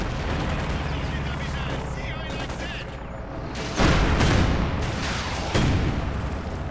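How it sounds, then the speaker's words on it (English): Mortar fire in a WWII strategy game, heard as heavy booming blasts and rumbling impacts within a battle soundscape of scattered gunfire, with a few loud concussive hits standing out. "Mortar firing away there."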